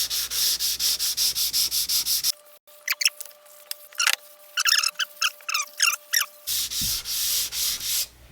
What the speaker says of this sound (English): Might as well sand it down all the way and then just do another real light coat.